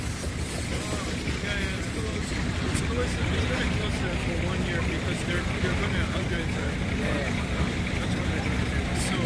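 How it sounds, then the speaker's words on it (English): A CP potash freight train, pulled by a single engine with green cars that may be empty, rolls past Dorval station in Montreal: a continuous broadband rumble and rattle, steady and fairly close, with faint voices now and then. "That's a potash train"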